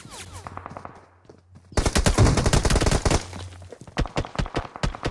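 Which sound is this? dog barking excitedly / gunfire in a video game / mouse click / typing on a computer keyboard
gunfire in a video game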